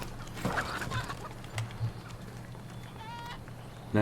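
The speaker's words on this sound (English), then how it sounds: "Chicken." A chicken in the video game Crysis clucks in a few short, scattered bursts over a busy, noisy game soundscape, with a brief higher chirping trill near the end and a steady low hum beneath.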